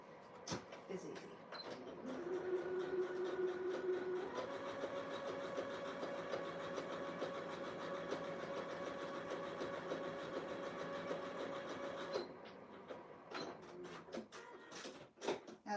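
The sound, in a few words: sewing machine sewing fleece robe belt, straight stitch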